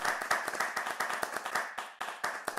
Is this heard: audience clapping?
yes